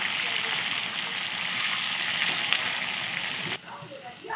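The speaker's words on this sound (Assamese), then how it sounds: "মই মাংসখিনি লৰাই দিম ধুনীয়াকৈ।" Broiler chicken meat with onion, chilli, coriander and sauce sizzling and frying in a pan while being stirred, a steady loud hiss with a brief dip near the end.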